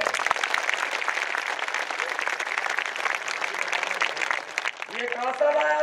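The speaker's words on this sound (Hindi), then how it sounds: "ओकरो मन के सम्मान में जोरदार ताली बजा" A crowd at a Kranti Sena gathering breaks into loud, sustained applause, dense clapping filling several seconds before a voice starts speaking over the tail end.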